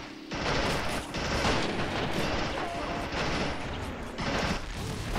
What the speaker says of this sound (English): Bazooka!